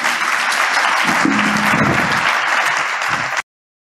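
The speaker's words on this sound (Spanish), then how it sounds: "Un aplauso para ellos" An audience at an embassy conference on aviation's energy transition gives a warm, dense round of applause to three panelists, loud and continuous before cutting off abruptly.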